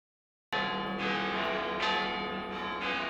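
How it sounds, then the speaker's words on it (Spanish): Cathedral church bells in León ring out before Christmas Day Mass, starting abruptly and loud, with several full, resonant strikes a little under a second apart whose tones overlap and sustain throughout. "Las campanas llamaban a la Eucaristía minutos antes de las 12 de la mañana"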